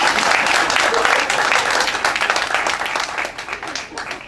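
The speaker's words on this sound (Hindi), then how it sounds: "जोरदार तालियां।" Strong audience applause at a Hindi comedy poetry show, dense steady clapping from a large crowd that stays loud throughout and thins slightly toward the end.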